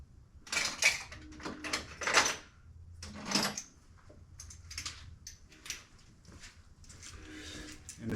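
A ratchet with a 3-inch extension loosening a 10 mm bolt on a Cub Cadet Enduro XT2 riding mower, heard as close, irregular bursts of clicking and metallic turning with quiet gaps between them.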